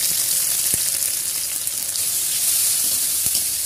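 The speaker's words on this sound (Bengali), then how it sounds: "এই পেঁয়াজ আমি তেলের উপরে ছেড়ে দিচ্ছি।" Sliced onions tipped into hot oil with garlic for Bengali-style singara filling, giving a steady, loud, close sizzle and crackle of frying that fills the whole stretch, with a couple of brief clicks of utensils and no talking.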